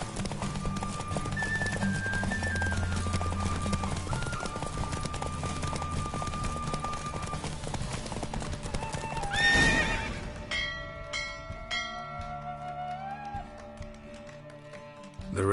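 Roach the horse galloping in a race in The Witcher 3, rapid hoofbeats driving under game music, with a loud whinny near the end as the pace settles.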